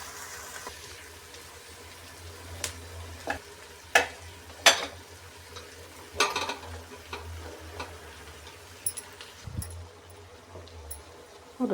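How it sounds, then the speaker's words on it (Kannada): Cooked rice is being mixed with tamarind juice for chitranna, giving soft scraping and stirring sounds with a series of sharp clicks and taps of a utensil against the vessel, fairly quiet and irregular, with no talk. "ಇದಕ್ಕೆ ಅನ್ನನ ಹಾಕಿ ಇವಾಗ ಕಲಿಸ್ತೀನಿ"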